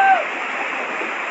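A flooded mountain stream in Kelvi's Khingsha khad, swollen and surging toward orchards, rushes with a steady, dense roar of churning water, close and continuous throughout with no voices.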